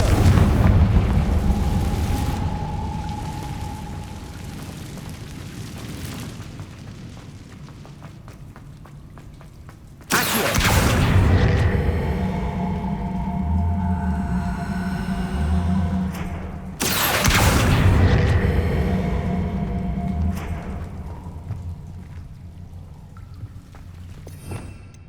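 Confringo fire spells burst in Hogwarts Legacy, two heavy booming blasts landing several seconds apart, each followed by crackling, rumbling debris over a low ambient drone.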